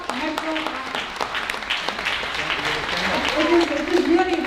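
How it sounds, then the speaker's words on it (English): Audience clapping at a women's symposium for a recognized group, scattered and moderate, with a voice talking over it as it continues. "I want everyone to applaud New York Metro."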